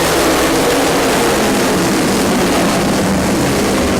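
Dirt track race cars roar off together at the green flag, a loud, dense, continuous engine drone filling the whole stretch with no break.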